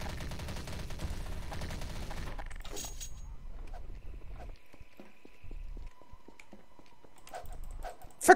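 Gunfire in a gun game shooter, rapid rattling bursts at first, then scattered sharp shots and clicks with quiet gaps, ending in a louder burst.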